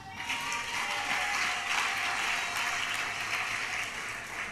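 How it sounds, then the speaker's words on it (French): A congregation at a special combined church worship service claps together in a sustained, dense burst of applause that holds at an even level from start to finish. "Applaudissez pour vous-même."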